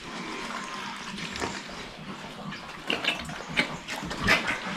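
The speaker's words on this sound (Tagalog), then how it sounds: "Napakalakas lang kumain, no? Yung ating mga baboy." Pigs at a Philippine piggery eat noisily, with wet, messy chewing and slurping that comes in irregular bursts and grows louder toward the end, close and without talk.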